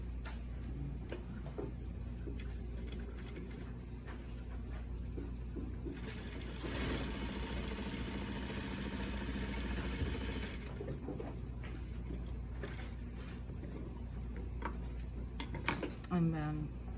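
A sewing machine stitches the second side of a double welt pocket sample. The steady mechanical whir runs throughout and swells louder in the middle, with brief talk around it.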